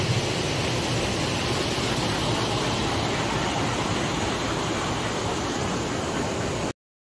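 A small waterfall in the hills near Kanatal, a steady, even rush of falling water with no change in level, heard alone without voices before it cuts off abruptly.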